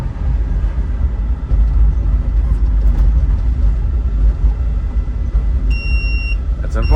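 An electric-converted 1975 Volvo 164 accelerating uphill, heard from inside as a continuous low road rumble and drone, with a short high electronic beep near the end.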